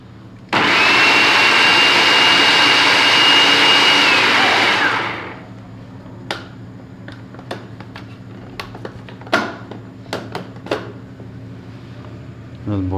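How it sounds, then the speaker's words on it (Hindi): A blender whirs loudly for several seconds, coarsely chopping spinach, then winds down, followed by a few light clicks and taps. "अब पालक को थोड़ा ब्लेंडर करवा लेते हैं।"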